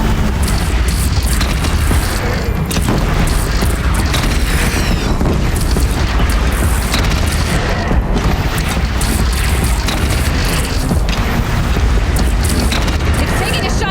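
Booming cannon fire and explosions in Horizon Zero Dawn pound continuously in a loud, dense battle din, with heavy low rumbles and bursts layered over mechanical clatter and voices.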